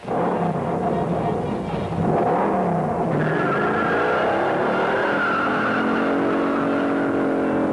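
A 1969 Dodge Charger Hemi with TorqueFlight transmission squeals its tires and accelerates hard away, engine roar swelling and holding loud for several seconds with no talk.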